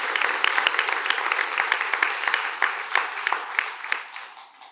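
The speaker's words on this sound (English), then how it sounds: "let's give them a round of applause" Applause at a school district board meeting honoring a team, a room of people clapping steadily with sharp individual claps standing out, fading toward the end.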